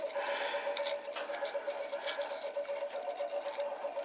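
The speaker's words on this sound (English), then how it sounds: "just reach over and scrape the salt off the sides" Dried sea salt being scraped off the sides of a container: a continuous, close, dry rasping scrape that runs steadily throughout with slight rhythmic strokes.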